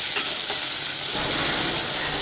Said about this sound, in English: So the cumin seed has started to splutter now. So I'll add this 1 onion.